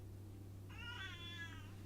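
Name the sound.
cat meowing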